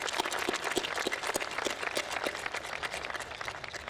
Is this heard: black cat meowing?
no